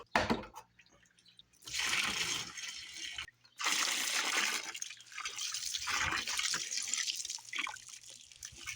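Vinegar gushes and splashes as it is poured out of a rusty motorcycle gas tank, in two long pours broken by a short pause, loud and close with no talking.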